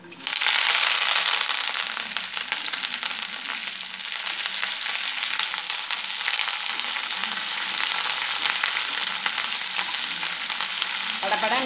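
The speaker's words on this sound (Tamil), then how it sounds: "படப்படன்னு பொரியும். கொஞ்சம் கவனமாக மேலே பற்றாமல் பொரிங்க." Curry leaves fry in hot oil for a chutney, a loud, dense crackling sizzle that runs steadily throughout with no voices.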